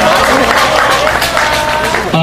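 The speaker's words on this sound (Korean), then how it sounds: "다시 한번 큰 박수 보내주시면 좋겠습니다" A crowd at an evening rally against the US FTA breaks into loud, dense applause, with cheering voices mixed in. The clapping stays close and sustained until it cuts off abruptly at the end.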